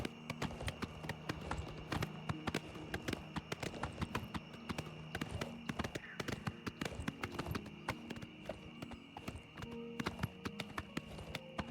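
Horse hooves clip-clopping in the video game Elder Scrolls IV: Oblivion Remastered, a quick continuous run of sharp hoof strikes over ground, fairly faint and steady with no talking.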